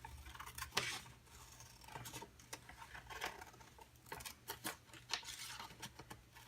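Scissors snip through a painted paper page in a quick series of short, crisp cuts that come close and fairly quiet, with small pauses between bursts of snipping.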